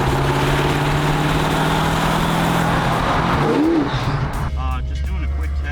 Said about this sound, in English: Just doing a quick test, rolling through the gears, making it all the way to sixth gear actually.